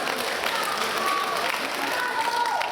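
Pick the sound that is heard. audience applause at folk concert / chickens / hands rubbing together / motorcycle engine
audience applause at folk concert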